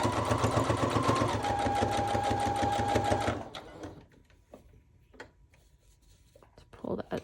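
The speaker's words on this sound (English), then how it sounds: "I'm gonna go ahead and just sew this on, and I'm gonna sew around the 3 corners like that." A sewing machine stitches a pocket onto a kantha quilt journal cover, running in a fast, steady mechanical patter for about three seconds before stopping, followed by quiet handling noises and soft rustles.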